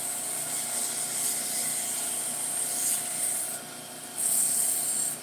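Sandpaper is rubbed lightly along the thin stem of a spinning top, making a soft, continuous hiss-like rasp that swells slightly in a few strokes, close up with no talking.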